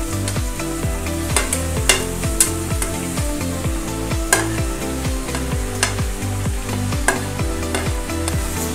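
Tomato, curry leaves and coriander fry in a pan for a Kerala-style chicken curry, a strong steady sizzle broken by sharp scraping clicks of stirring, with rhythmic music underneath.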